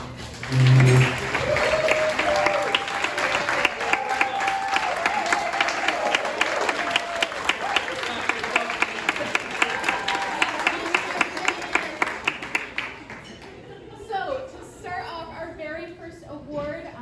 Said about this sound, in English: I'd also like to give you a round of applause